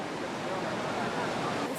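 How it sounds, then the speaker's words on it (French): Atlantic Ocean waves on the Landes coast of France wash in as a steady, soft broadband rush of surf, heard from a distance with no voices over it. "Il y a beaucoup trop de vagues pour moi."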